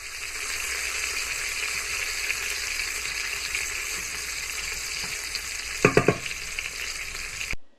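Bacon frying in a pan gives a steady, dense sizzle throughout, with a brief burst of louder crackling and clatter near the end.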